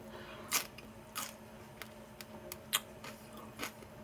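Crisp crunching bites and chewing sounds repeat irregularly, close and fairly quiet, with no talking.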